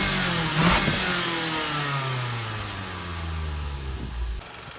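The 2.4 liter engine of a 2017 Mitsubishi Outlander Sport revs up from idle, heard near the exhaust at the rear, with a few rising and falling sweeps at close range before dropping back.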